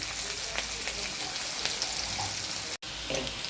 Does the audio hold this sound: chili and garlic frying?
yes